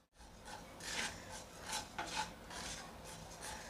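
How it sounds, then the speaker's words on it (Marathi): Coriander, fennel and cumin seeds are dry roasted and stirred in a pan, producing a soft, close, rasping scrape that swells and fades in repeated strokes, fairly quiet throughout. "इथं 1 चमचा मी धने भाजून घेते, बडीशेप आणि इथं जिरं, हे सर्व मी हलकं परतून घेणार आहे"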